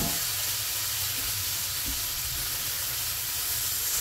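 A chuck tender roast sears in a hot pan, giving a steady, soft hiss of sizzling fat that runs evenly throughout without talk.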